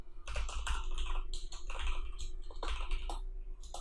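Steady typing on a computer keyboard during a PHP coding lesson, a rapid run of close, crisp key clicks with irregular rhythm and no speech.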